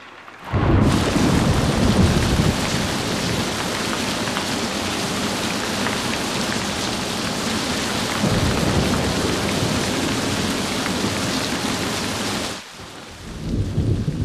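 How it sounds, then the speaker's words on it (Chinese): A heavy nighttime downpour roars steadily while deep thunder rumbles through it. The dense, loud rain continues for about twelve seconds, then briefly drops away before surging again. "下这么大雨，车该淋坏了。"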